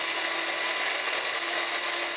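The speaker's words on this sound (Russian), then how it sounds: "Центр эстетического воспитания наполняют звуки ремонтных работ." Power tools run during renovation work inside a children's aesthetic education centre, giving a loud, steady high-pitched whine with a constant tone, like a saw or grinder held at full speed, close and unbroken without voices.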